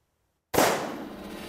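A single loud gunshot from a Taurus Raging Hunter .44 Magnum revolver fitted with a Vortex Viper red dot, after brief silence, sharp blast with a ringing outdoor decay trailing off.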